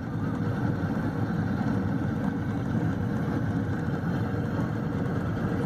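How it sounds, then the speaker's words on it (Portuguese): Tractor working during a rice harvest, a steady low rumbling diesel drone that runs continuously at even loudness throughout, with no other distinct sounds on top. "Aí o Léo no trator."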